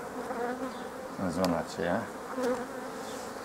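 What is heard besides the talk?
honey bees buzzing around hive frames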